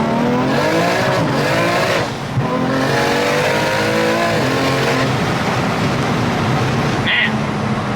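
A single-turbo BMW F80 M3 pulls hard on an open road in cold 47-degree weather, its engine note loud and rising steadily under a voice talking in the cabin, with a brief dip around a gear change.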